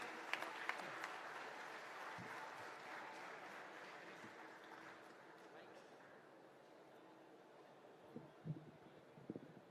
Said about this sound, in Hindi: मैं चाहता हूं कि हम सभी जोरदार तालियों से अभिनंदन करें